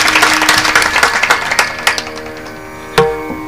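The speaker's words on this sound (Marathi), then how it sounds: "सगळे टाळी वाजवा एकदा." An audience at a devotional kirtan performance claps in a brisk burst of applause that fades after a couple of seconds, mixed with ringing, sustained musical tones, then a single loud struck note.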